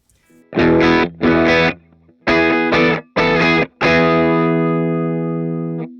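A heavily distorted electric guitar through an Anasounds Cerberus pedal, tone set fully bright, plays a handful of chopped chords, then lets the last one ring out and sustain, bright and close.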